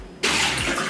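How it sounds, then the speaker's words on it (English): Water gushes steadily from an espresso machine steam wand during a rinse cycle, a loud continuous splashing stream that starts abruptly after a brief quiet moment and runs on alone. "You want to be sure that you have a cup or something to catch the water that comes out of your steam wand."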